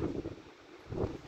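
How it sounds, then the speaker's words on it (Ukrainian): Wind gusting past a microphone outdoors on a cold lakeside fishing trip in Finland, a low rumbling buffet that swells at the start and again near the end with a lull between. "вітер дує в спину"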